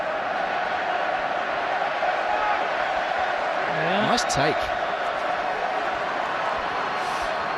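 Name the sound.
rugby stadium crowd applauding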